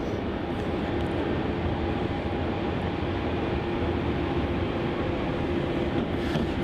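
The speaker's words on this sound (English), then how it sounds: "here goes a Jetstar A321neo" A Jetstar Airbus A321neo passing at Melbourne Airport gives a steady, even roar with a faint tonal whine, held at constant level throughout with no voices.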